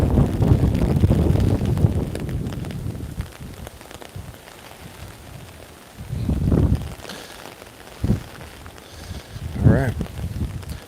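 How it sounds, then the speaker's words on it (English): Strong, gusting wind from Hurricane Ian buffets the microphone in Beaufort with a rumbling roar, mixed with rain, while someone talks intermittently through the gusts. "Wind's picking up."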